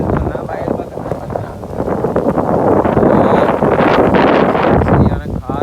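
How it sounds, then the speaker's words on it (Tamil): Strong wind gusts across open rice fields as rain begins, a loud, steady roar buffeting the microphone for the whole stretch with no clear voices. "சரியான காற்று, மழை ஸ்டார்ட் ஆகிட்டு"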